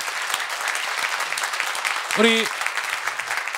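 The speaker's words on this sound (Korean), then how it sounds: "우리 이시영 박사님께도 큰 박수 부탁드리겠습니다." A talk-show studio audience breaks into sustained clapping, loud and broad throughout, with a brief spoken word from the host rising over the applause near the middle.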